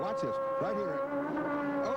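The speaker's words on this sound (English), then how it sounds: "And what you heard was the rev limiter banging along there" An Acura front-wheel-drive touring race car at Lime Rock, under full power up a hill in a wheelie, its engine droning at high revs and stuttering against the rev limiter, loud and close, with a commentator talking over it.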